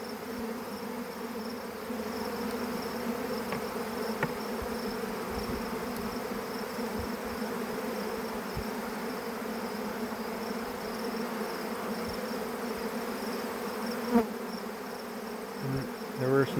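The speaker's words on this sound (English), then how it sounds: "This looks just like a regular swarm." A honeybee swarm during a hive inspection gives a steady, dense buzzing at moderate level, continuous for the whole stretch, with a few louder bumps near the end and no voices.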